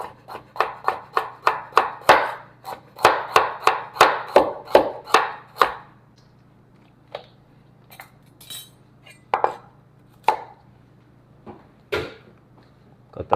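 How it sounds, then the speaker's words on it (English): A knife chops a carrot on a cutting board while peppers and scallions are prepped, landing a quick, steady run of about a dozen crisp, close strikes before thinning to a few scattered knocks and clinks. "The carrot, I'm just gonna cut it up just like this."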